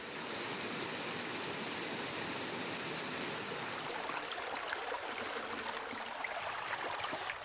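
An open wastewater drain flows in a steady, continuous rush of water, moderately loud and unbroken, with no voices.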